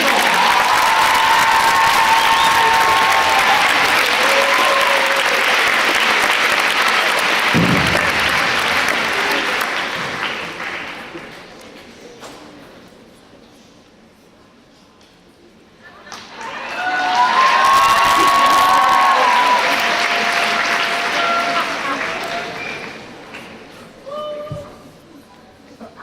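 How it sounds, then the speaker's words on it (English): A crowd at a school homecoming coronation applauds a returning guest with loud, sustained clapping and some cheering, then quiets briefly before a second strong wave of applause swells and slowly fades. "please join me in welcoming Tyler back to Century with a round of applause"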